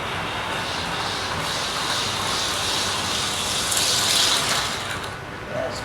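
Model railway train speeding along a layout track gives a steady whirring, rushing hum, swelling slightly toward the end, with a voice murmuring faintly underneath.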